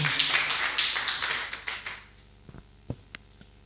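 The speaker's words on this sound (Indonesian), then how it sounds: "Kita berikan tepuk tangan" A church congregation claps in a quick burst of dense applause lasting about two seconds, followed by a few scattered single claps trailing off.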